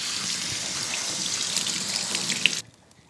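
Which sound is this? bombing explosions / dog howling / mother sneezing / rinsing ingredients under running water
rinsing ingredients under running water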